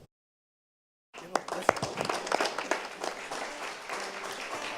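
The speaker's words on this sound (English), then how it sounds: "Final round of applause for the recipients." Audience at a Honolulu City Council honors ceremony breaking into applause after a second of silence, a moderate, scattered clapping that builds and holds steady.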